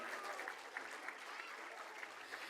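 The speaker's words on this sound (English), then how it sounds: "So give them a big round of applause" Parents in the audience at a preschool annual day applaud, producing a steady wash of clapping heard at a low, distant level.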